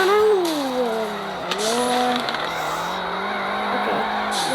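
Car engine whining through shifting revs while tires squeal in drifting skids, in a racing video game, several sweeping screeches over a steady motor tone.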